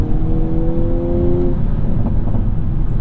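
The 2022 Hyundai Kona N's engine drones loudly with a rising tonal note that breaks off partway through, as if at a paddle-shifted gear change. A steady rumble continues afterward.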